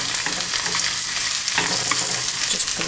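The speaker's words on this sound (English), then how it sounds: "you're going to saute up some spinach" Spinach sautéing on low heat in a little oil in a pan, a steady soft sizzle with light stirring and crackle throughout, close and continuous with no talking.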